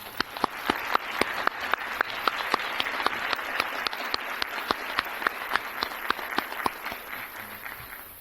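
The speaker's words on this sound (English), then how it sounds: "Could you please join me in a round of applause for NHS Advisor?" Audience applause at a high school National Honor Society induction ceremony: a broad, even patter of many hands with a few sharper, closer claps standing out in a regular beat, moderately quiet and without voices.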